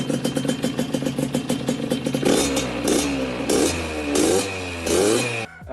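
A loud two-stroke Yamaha DT175 supermoto engine with a handmade aftermarket exhaust idles in a rapid, popping rhythm, then revs up and down several times with a raspy, crackling exhaust, close by.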